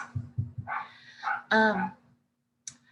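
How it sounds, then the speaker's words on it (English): A small dog yips and barks indoors, giving a few short low woofs followed by higher, drawn-out yelping barks, close and fairly loud, then falling quiet. "my little dog is barking again. She sees a candy wrapper and she barks."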